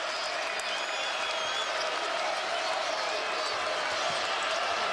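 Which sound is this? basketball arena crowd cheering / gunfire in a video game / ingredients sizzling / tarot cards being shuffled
basketball arena crowd cheering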